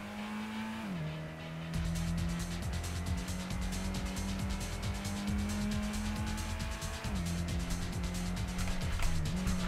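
A race car in Gran Turismo 1 on the original PlayStation, a loud steady engine note with gear-change drops in pitch and a tyre squeal running alongside as the car slides through corners, without speech.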